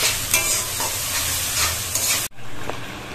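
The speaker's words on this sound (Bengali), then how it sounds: "এই যে চিকেন বিরিয়ানির জন্য আমি চিকেনটা এবার রান্না করছি" Chicken pieces frying in a pan for chicken biryani, giving a dense, continuous sizzle and crackle with occasional stirring scrapes. It cuts out abruptly near the end, then resumes more quietly.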